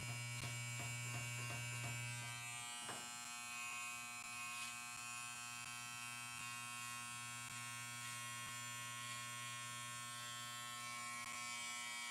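An electric trimmer buzzes steadily while trimming a beard, a close, constant hum with a few faint clicks and shifts early on as it moves through the hair.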